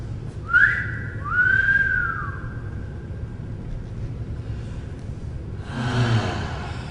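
A person whistles two short rising-and-gliding notes over a low rumbling background, followed by a breathy noisy burst near the end.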